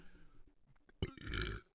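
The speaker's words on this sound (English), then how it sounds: "That burp is terrible." One loud, rough belch rises after a few faint throaty noises and lasts about half a second before fading, heard up close with nothing else around it.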